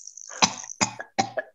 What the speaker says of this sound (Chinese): 你看我在咳嗽啦